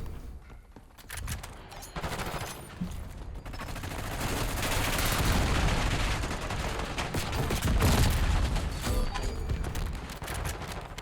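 Rapid gunfire in the video game Black Ops 6, dense bursts of automatic shots building in intensity and staying loud and close throughout, with no talking.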